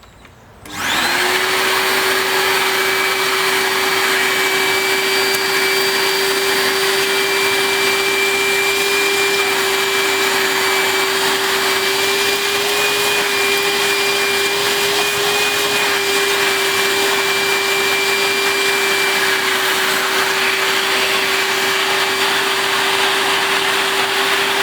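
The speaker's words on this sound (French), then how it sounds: "Donc on passe l'aspirateur tout de suite et puis on brossera un petit peu" A vacuum cleaner switches on and runs with a steady, loud whine and airy roar, cleaning a car interior alone without pause.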